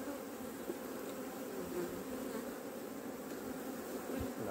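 Honeybees swarming around an opened hive, a dense continuous buzz of many insects close by and steady throughout, with faint handling knocks underneath.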